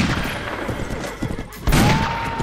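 Black-powder-era rifles fire in a Mount & Blade Warband battle with an 1860s American mod, a sharp blast standing out over battlefield clamor and horse noise, with a player talking.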